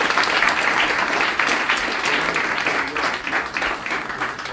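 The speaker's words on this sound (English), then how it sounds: "I love it how all 10 filmmakers clap for him now" Audience at a film award ceremony gives a big round of applause, dense continuous clapping that stays loud for several seconds and eases slightly toward the end.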